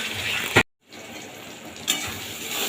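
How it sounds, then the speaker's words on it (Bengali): A paste of chilli powder, turmeric, salt and a little sugar fries in oil with a loud, close, steady sizzle, broken briefly by a near-silent gap, then resuming with a scraping stir. "লঙ্কার গুঁড়ো, হলুদ গুঁড়ো, লবণ আর সামান্য পরিমাণে চিনি দিয়ে একসাথে ভালোভাবে মশলাটাকে কষাবো যতক্ষণ না তেল ছাড়ে"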